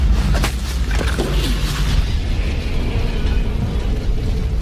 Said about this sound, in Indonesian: terjadilah ledakan dahsyat.